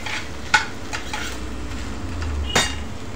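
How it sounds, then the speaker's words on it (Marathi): Corn kernels fried in butter in a pan, heard as a soft steady sizzle with a few sharp clinks of a utensil against the pan. "तर हे आपण परतून घेणार आहोत छान। बटरमध्ये फ्राय केल्यामुळे त्याचा फ्लेवर अजून छान लागतो।"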